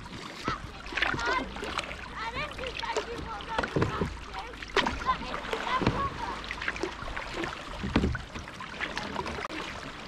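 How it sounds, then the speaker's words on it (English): Canoe paddle strokes dipping into sea water from a fishing kayak, repeated splashy pulls every second or two with water sloshing and wind noise between, close by. "I'm trying to remember the efficient paddle stroke."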